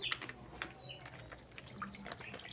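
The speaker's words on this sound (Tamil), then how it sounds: "இப்போ தண்ணியை கொட்டிக்கலாம்." Water poured out of a fish tank splashes and drips faintly, in irregular patters and trickles with small bright splashes throughout.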